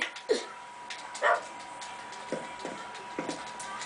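Short, bark-like yelps from a dog in a video game, a few isolated hits spread across a few seconds, moderately loud over a low steady background hum.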